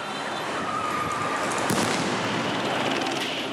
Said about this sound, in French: Grenades assourdissantes, gaz lacrymogène.